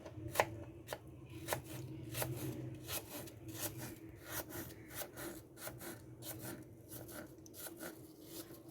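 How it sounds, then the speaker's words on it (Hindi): Fruit for a custard trifle is roughly chopped with a knife on a cutting board, producing quiet, irregular taps and scraping strokes close by. "फ्रूट्स को आप रफली कटिंग कर लें"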